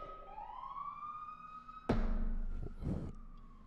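A police siren wails outside, rising and sweeping, then a loud thump and rumble as a vehicle passes nearby.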